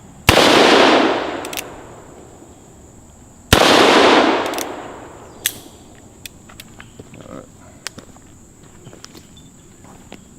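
Two loud, sharp revolver shots from a Bat Masterson Colt SAA with a shorter barrel, each ringing out and decaying over a couple of seconds, followed by faint clicks and handling noises.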